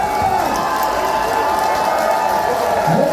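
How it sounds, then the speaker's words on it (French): Crowd applause and cheering at a lively outdoor event, a dense, steady wash of many hands clapping with voices mixed in, loud and continuous throughout. "Bonne main d'applaudissements."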